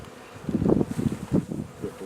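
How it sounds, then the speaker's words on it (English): Honeybees buzz around a hive in cold, damp weather, a low droning hum that swells and fades in several close pulses. "A lot of bees."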